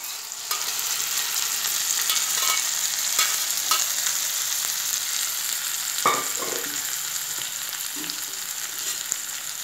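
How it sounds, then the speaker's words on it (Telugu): Mango and pigeon pea dal being stirred after salt is added, a steady soft sizzling, bubbling hiss with faint scraping stirs of a spoon against the pot throughout, close and continuous, no speech. "పప్పు వేసుకున్నాం కదా ఒక 2 స్పూన్స్ చిన్న ఉప్పు వేసుకున్నాం కలుపుకున్నాం మంచిగా"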